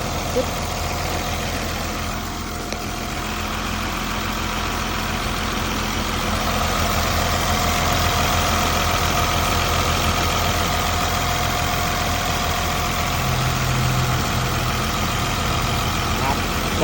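A steady, low diesel engine of a Caterpillar D5N bulldozer idles continuously, a constant rumble with a faint mechanical knock throughout, close by and fairly loud.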